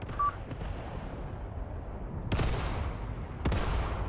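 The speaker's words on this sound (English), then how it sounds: "Artillery is impacting here now." Artillery shells land in the WW2 game Mius Front, two sharp booming impacts a second apart over a constant low rumble of battlefield noise, with no talking.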